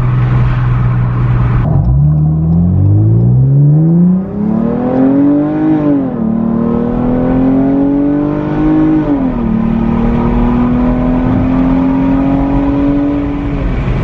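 A 2015 Chrysler 200 with a 3.6L engine and an 80mm ported throttle body accelerating hard in sport mode, the loud engine note climbing steadily through gear shifts over about fourteen seconds, heard close without talk.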